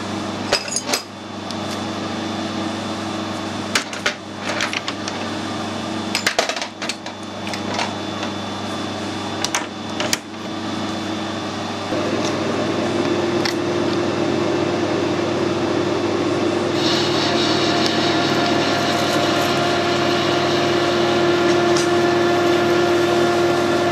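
Hard steel bar being parted off on a lathe, a steady loud machining drone with a high-pitched whine and scattered clanks and knocks, the tone shifting and growing harsher about halfway through as the cut deepens.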